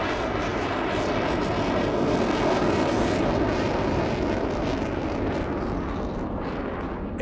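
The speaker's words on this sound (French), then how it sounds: "les deux post-combustion enclenchées, l'avion remonte pour une boucle lente" A Rafale fighter jet with both afterburners lit roars loudly and continuously overhead during a solo air display, a broad, powerful rumble that holds steady throughout before easing slightly at the end.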